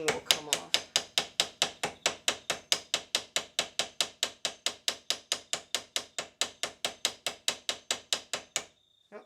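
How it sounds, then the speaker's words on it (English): A hammer peens a copper pin on a slip-joint knife in a rapid, steady run of several dozen light metallic taps that stop abruptly. "as I start to peen it and expand it out, that little ring will come off"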